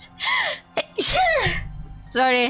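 A single sharp sneeze at a live event, close and loud, with short bits of speech just before and after.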